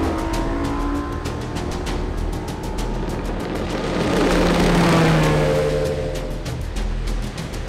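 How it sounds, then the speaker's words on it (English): A NITRO Z20 bass boat runs across the water with a steady, loud outboard engine drone and rushing hull and wind noise, swelling briefly in the middle of the run. "I just got in this boat for the very first time, the new NITRO Z20, and let me tell you, it's an exhilarating ride."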